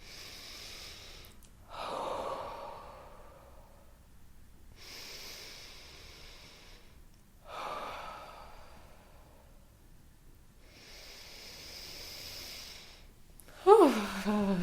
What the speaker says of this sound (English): 3 deep breaths at your own pace.